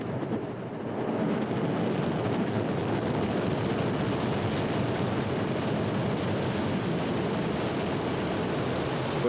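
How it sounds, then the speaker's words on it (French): An Ariane 5 rocket lifts off, its engines producing a loud, continuous broadband roar that rises within the first second and holds steady and rumbling throughout. "Le moteur s'allume. Allumage."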